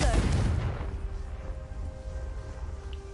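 A Confringo spell blast in the Hogwarts Legacy video game bursts out as a single heavy boom at the start, then decays into a low rumbling tail with a faint lingering tone.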